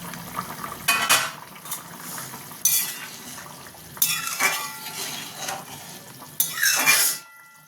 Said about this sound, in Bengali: এবার আমি ঢাকাটা সরাবো।